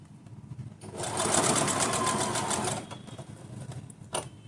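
A sewing machine double stitching a small winter dhoti dress runs in one close, rapid burst of stitching for about two seconds, with quieter handling noises before and after.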